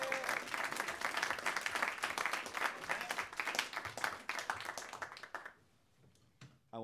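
A recital audience claps warmly to welcome trombonist Jack Timmons, a dense, steady burst of applause from many hands that tapers off into near silence before a few final sounds.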